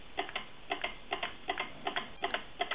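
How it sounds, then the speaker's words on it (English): An electromechanical counter ticking as a coil is wound on a small machine, crisp close clicks in quick pairs repeating at a steady rhythm, fairly quiet with no talking. "What you hear is the counter. It's an electromechanical counter."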